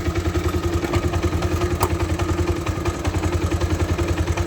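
A vehicle engine idles steadily with a rapid, even mechanical pulse and a faint constant whine, close and continuous with no change in speed.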